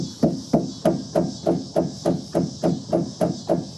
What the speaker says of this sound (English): we got to knock this whole cover backwards a little bit with a rubber mallet